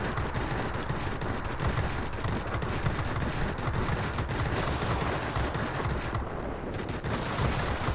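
Aircraft guns firing in World of Warplanes aboard an F5F Skyrocket, a dense, continuous rattle of rapid gunfire held at steady loudness throughout, with a brief dip near the end and no talking.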